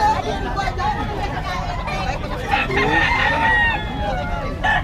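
Chickens cluck and a rooster crows amid a busy crowd at a pet market in Bocaue, Bulacan, with people chattering nearby throughout.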